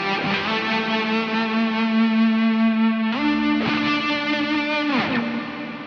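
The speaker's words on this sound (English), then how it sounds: "fuzz is really, really cool. It's based on like a fuzz face." Electric guitar played through a Fuzz Face-style fuzz effect on a Chaos Audio Stratus multi-effect pedal, with EQ on and noisy pickups; loud sustained distorted notes ring continuously, shifting pitch partway through, with no talking.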